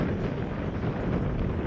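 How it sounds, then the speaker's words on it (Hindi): Cold wind blowing steadily beside the Ganges river, a continuous broadband rush buffeting the microphone with low rumble throughout, no voices. "इतना ठंडा ठंडा हवा चल रहा है।"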